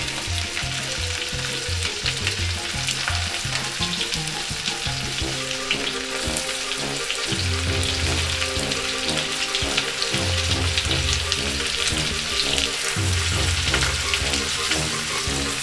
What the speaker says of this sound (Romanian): Odată ceapa prăjită, puteți să adăugați bucățile de pește.